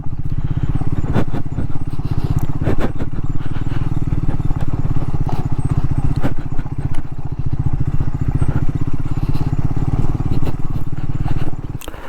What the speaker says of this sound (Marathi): त्यामुळे आरामशीर बाईक चालवायला लागते इथे.